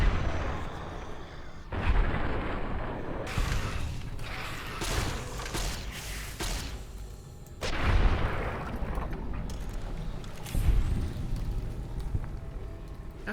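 A gun firing in the video game Fallout: New Vegas. Heavy, booming shots and crashing impacts repeat in uneven clusters, loud and close, with a few spaced single blasts between them.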